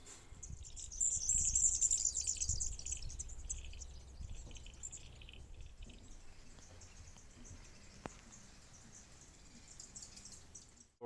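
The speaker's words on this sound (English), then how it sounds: "You can actually hear the birds chirping and all the different sounds of the birds." Birds chirp at a bird sanctuary, with small high calls and twittering over a soft outdoor background and a steady insect-like trill, fairly faint and distant, with no talking.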